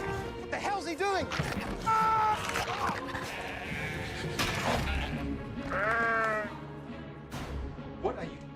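Sheep in the horror film Black Sheep bleat in several wavering calls amid tense dialogue and background noise, with people talking between and over the cries.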